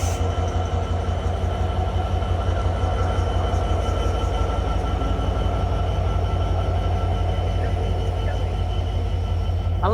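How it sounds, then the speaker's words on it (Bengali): Madhumati Express standing at Mawa railway station, its engine giving a steady, loud low rumble throughout with faint clanks and station noise over it. "এই হচ্ছে মাওয়া রেল স্টেশন আর এটা হচ্ছে মধুমতি এক্সপ্রেস ট্রেন।"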